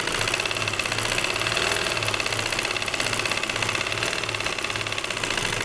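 A sewing machine runs steadily, stitching a belt-style shalwar, its fast rhythmic mechanical chatter loud and close and continuous throughout with no talking.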